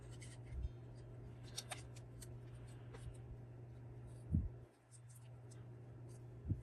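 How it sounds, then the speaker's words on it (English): Scissors fussy-cut small paper holly shapes close up, giving faint snips and rustling paper over a low steady hum, with a few sharper clicks spaced apart. "Lots of fussy cutting."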